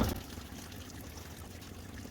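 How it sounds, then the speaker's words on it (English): Water draining out of a removed coolant hose on a 2015 BMW X5 during water pump and thermostat replacement, a steady close trickle and pour running alone without a break. "once you take off this hose, it's just gonna start shooting out coolant."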